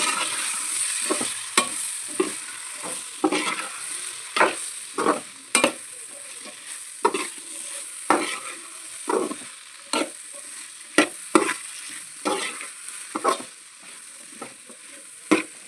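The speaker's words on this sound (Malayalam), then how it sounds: "മീൻ കൂടെ ചേർത്ത് ഒന്നുകൂടി നമ്മൾ മസാല നല്ലോണം ഒന്ന് പിടിക്കുന്ന രീതിക്ക് ഒന്ന് നല്ലോണം ഒന്ന് ഇളക്കി കൊടുക്കണം" Fish pieces stirred with masala in a sizzling pan for a pickle: a continuous hot oil sizzle under repeated scraping spoon strokes in an irregular rhythm, close and clear, with no voices.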